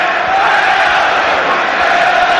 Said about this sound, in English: Virtually the whole crowd on their feet, enjoying themselves here